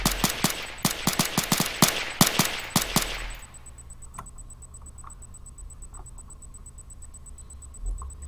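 Rapid gunfire in a shooter game: a fast run of sharp, loud shots for about three seconds, then it stops and only faint ticking and a thin steady tone remain.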